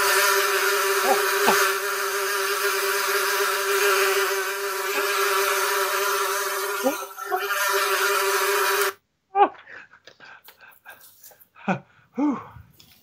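A loud, steady insect-like buzzing drone with a strong hum fills most of the clip as a sound effect for a lacrosse broadcast about the Georgia Swarm, then cuts out abruptly, leaving brief scattered chirps and squeaks.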